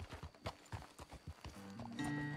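Horse hooves clip-clop in a quick, uneven series of close, distinct strikes in Red Dead Redemption 2, with a steady tonal hum joining near the end.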